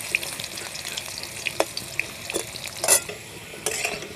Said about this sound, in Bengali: আলুটা 3-4 মিনিট ধরে লাল করে ভেজে নেব